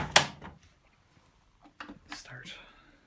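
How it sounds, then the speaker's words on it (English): The door of a Hotpoint WMA32 washing machine shuts with one sharp, close thud, followed by quieter clicks and mechanical shuffling. "Close the door."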